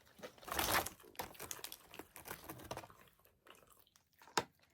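Crunchy fried chicken is bitten and chewed close up, with crisp crackling bursts at first, then quieter irregular crunches and one sharp snap near the end.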